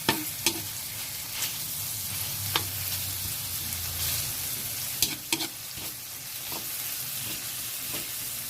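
Tomatoes sauté in a pan for mung bean stew, a continuous close sizzle broken by sharp scraping taps of a spatula pressing and stirring the fruit, with no voices.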